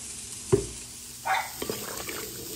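Spices being stirred into mac and cheese in a pot, with a few soft scraping and squelching stirs and light clinks of the utensil, close and fairly quiet, with no one talking.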